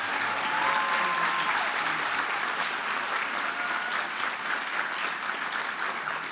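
Commencement crowd applauding award winners at a school ceremony, a broad, sustained roar of many hands clapping at a steady level from start to finish, with a faint murmur of the crowd beneath.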